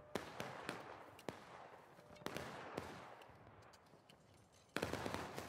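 Muskets fire at a Gettysburg re-enactment on McPherson's Ridge as a string of separate, sharp cracks at uneven intervals rather than one massed volley. The shots sound fairly distant and quiet, with a louder crack near the end.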